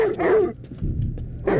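A Rottweiler in a movie barks in a few sharp bursts with a deep, rough tone, and a person talks briefly between the barks.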